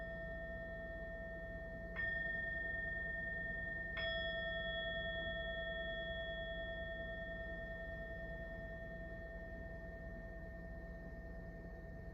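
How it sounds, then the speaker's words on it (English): A meditation bell rings twice during a gentle yoga session, two soft struck tones a couple of seconds apart, each leaving a long, pure, slowly fading resonance over a faint, quiet background hum. "with the sound of the bell"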